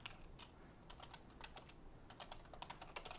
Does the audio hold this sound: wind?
no